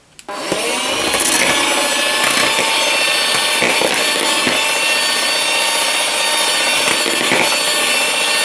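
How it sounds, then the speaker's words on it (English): An Aldi Ambiano cordless hand mixer whirs steadily at high speed through dry ingredients including flour, a loud continuous motor whine with rattly beaters running for about eight seconds with no talk. "let's demonstrate the Ambiano Cordless Hand Mixer on dry ingredients"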